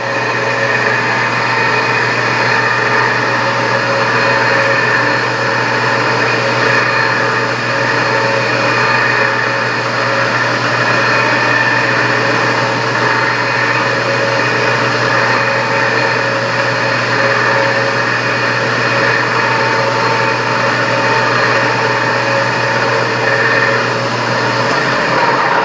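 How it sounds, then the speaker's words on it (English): A milling machine runs steadily at a constant pitch in a machine shop, a loud continuous whine and hum holding unchanged throughout with no talk. "I always shut the mill off before I raise the spindle"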